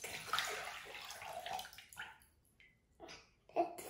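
Water pours into a bowl as focaccia dough is started, a faint, close trickle and splash that comes in short uneven bursts with brief pauses.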